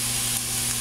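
Steady, close sizzling of pot roast meat frying in a hot pan, a continuous crackling hiss with no voices.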